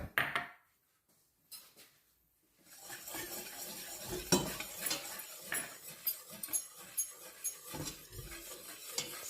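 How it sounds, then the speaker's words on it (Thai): A utensil scrapes and clinks against a pot while three kinds of flour are stirred together for Thai lod chong dessert, in irregular close strokes after a near-silent opening. "ใส่แป้งทั้ง 3 ชนิดลงในหม้อเลยค่ะ แล้วก็คนผสมกันเนาะ"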